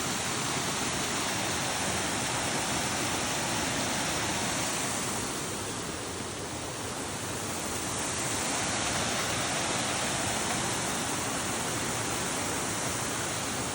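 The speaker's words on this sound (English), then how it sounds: "Light rain, shower." Steady light rain shower falling outdoors on rocky ground, a continuous broadband hiss that stays even and loud throughout, dipping slightly midway before returning.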